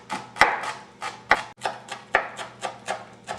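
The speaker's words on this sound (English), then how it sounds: "We're going to need about half a bunch of fresh parsley. Chop it very fine." A knife finely chopping fresh parsley on a board, about ten crisp sharp knocks in a steady rhythm, close and clear with no voices.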